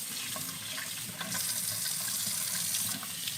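Tap water running steadily while deep conditioner is rinsed out of hair, a close, continuous splashing rush with slight shifts as hands move under the stream.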